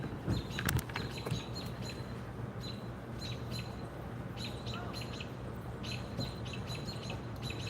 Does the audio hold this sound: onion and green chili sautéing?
no